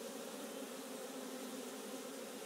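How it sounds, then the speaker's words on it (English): Honey bees swarming around a hive, including many drones, make a dense, continuous buzzing drone, steady and fairly close, with no talking. "there's still lots and lots sort of flying around me. Quite a lot of drone bees, male bees on top of the hive."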